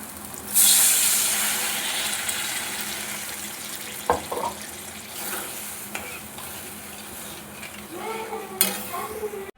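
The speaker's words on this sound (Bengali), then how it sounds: "এবার এর মধ্যে জল দেবো" Water is poured into frying spice paste for a Bengali fish kalia, setting off a loud hissing burst near the start, followed by a steady simmering sizzle broken by a few stirring clinks.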